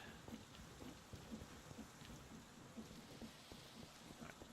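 Rain and thunder from the weather in a modded Minecraft Create world, a steady dense hiss of rainfall with low rumbling pulses throughout, moderately quiet and without speech.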